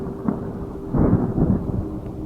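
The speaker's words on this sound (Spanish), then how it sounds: "pero después estruendos fuertes y también relámpagos" Thunder rolls in a storm sound effect, a loud low rumble that swells at the middle over a steady rain-like hiss, alone without voices.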